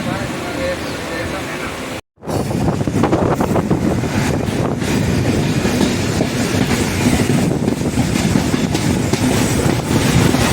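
A freight train rolls along the rails on a freight route near a crossing station between Karur and Trichy, India, with loud continuous rumbling and clacking wheels, wind buffeting the microphone, after a brief moment of silence.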